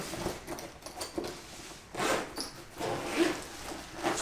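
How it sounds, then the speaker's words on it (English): The zip on a survival first aid kit bag is pulled open in several short, close rasping strokes with brief pauses between them, fairly quiet and without talk. "Nice quality zip again."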